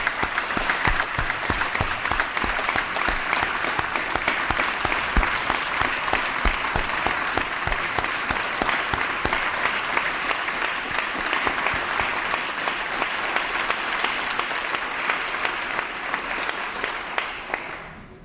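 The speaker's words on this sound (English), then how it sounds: "we want to ask to give them another round of applause for being here with us today" Sustained applause from members filling an assembly chamber for honorees at a Latino Caucus awards event, steady dense clapping for about seventeen seconds before tapering off at the end.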